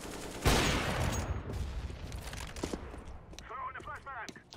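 Gunfire through a wall in a first-person shooter, a loud opening burst followed by a fast, rattling string of shots, with voices talking over the end.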